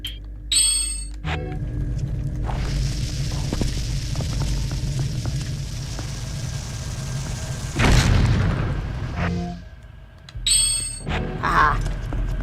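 A bomb detonates in The Legend of Zelda: Twilight Princess with a deep, heavy boom about midway, set among game chimes and effects while a player talks intermittently.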